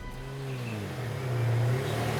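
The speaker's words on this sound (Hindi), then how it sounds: "गाड़ी की आवाज।" A car engine in a tense crime-drama scene rumbles low and steady, then swells louder toward the end as it revs or approaches, with no talking over it.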